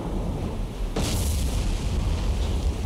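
A torpedo strikes a ship in the War on the Sea naval game, a deep muffled boom that bursts out suddenly and rolls on as a heavy rumbling wash, with no talking.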